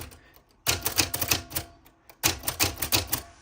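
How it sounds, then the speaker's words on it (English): Rapid clacking keystrokes from a We R Memory Keepers Typecast retro typewriter, close and crisp, in two dense bursts separated by a short pause, with no talking. "Everything functions just like a good old-fashioned typewriter."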